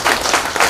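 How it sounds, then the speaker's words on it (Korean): Audience applause for a discussant at a Korean real estate academic conference, a dense, steady wash of many hands clapping at close range with no talk over it. "우리 토론해 주신 분께 뜨거운 박수 부탁드립니다"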